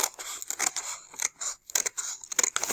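Scissors snip through paper in quick, irregular bursts of crisp cuts with short pauses between them, close and clear during a children's cutting lesson, with no talking.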